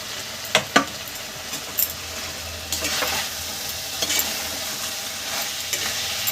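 Cauliflower sizzles steadily in a pan of hot oil with spices for a Bengali fish curry, while a spoon stirs it with a few scraping clicks against the pan.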